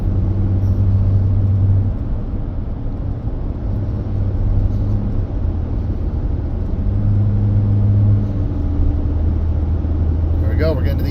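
A Ram 3500 HO pickup hauling a 12,000 lb trailer through the Colorado mountains drones with a loud, steady low engine rumble under load, its pitch shifting slightly over time and never letting up.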